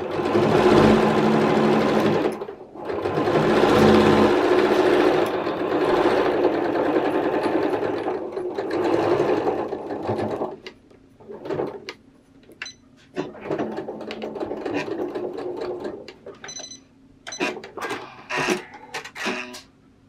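Sewing machine stitching a jacket, running in long steady loud bursts that stop and restart, followed by shorter stop-start stitching runs with small handling knocks between them, close by and with no speech over it.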